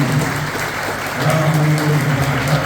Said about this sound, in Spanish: quiero pedir para eso este primer aplauso para todos ustedes